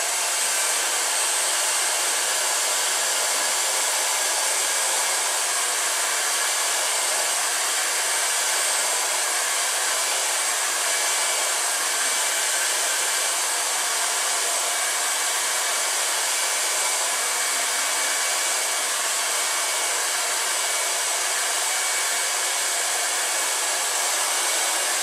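A hair dryer blows while drying hair, a loud, constant, close airy roar that never changes for the whole stretch.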